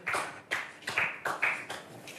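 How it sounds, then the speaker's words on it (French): A small group claps in several short bursts, about five distinct rounds of applause spaced roughly half a second apart, fairly close and with no talking. "Eh bien, on applaudit."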